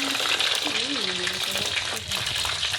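Chicken wings coated in potato starch fry in hot oil with a loud, close, continuous sizzle and bubbling, while a voice talks over it.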